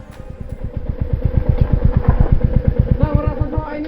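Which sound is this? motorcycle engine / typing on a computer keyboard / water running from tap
motorcycle engine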